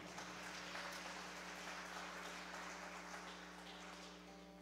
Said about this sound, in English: You could give yourselves a round of applause.